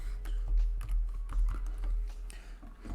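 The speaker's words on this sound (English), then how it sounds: "Type your page title." A page title typed on a computer keyboard: a steady patter of close key clicks in quick, uneven bursts over a low background hum.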